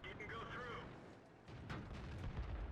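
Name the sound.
tank gun firing in the video game World of Tanks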